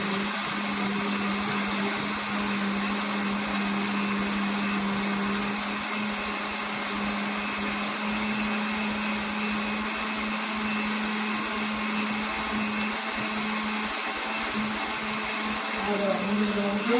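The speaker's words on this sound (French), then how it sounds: "Alors, mélangeons notre jus." An electric blender runs continuously as aloe vera juice is blended with plain water, a loud, steady motor whine with a constant hum that holds for the whole span.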